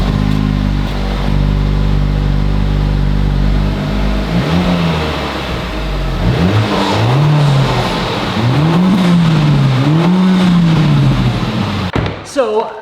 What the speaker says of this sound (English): let's go ahead and give you guys the revs of the OEM exhaust